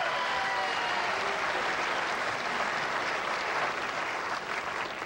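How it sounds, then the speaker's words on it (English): Dense, steady applause from a television studio audience, continuous and fairly loud for the whole clip without voices. "You may applaud."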